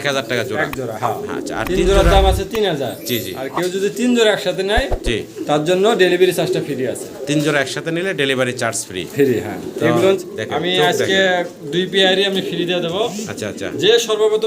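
Fancy pigeons cooing in repeated throaty phrases, close and fairly loud, mixed with someone talking over them for most of the stretch.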